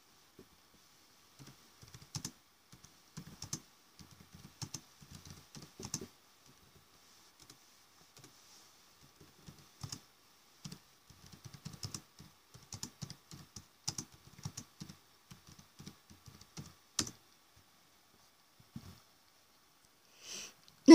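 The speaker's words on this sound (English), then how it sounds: "I should type something first." Keys tapped on a tablet keyboard in irregular bursts of light, close clicks with short pauses between runs, fairly quiet and with no talking.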